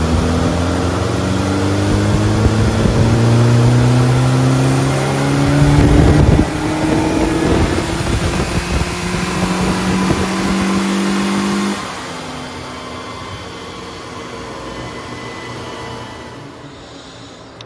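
A Morris Minor fitted with a twin-carb 998 engine, driving on the road, loud and continuous, with the engine note rising steadily through the gears as it revs, then dropping to a lower, steadier drone near the end.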